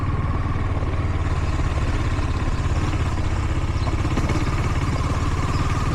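A motorcycle engine runs in second gear on a Dubai licence-training ride, a steady close throbbing drone with rhythmic low pulsing and some clatter, continuous and loud throughout with no voices.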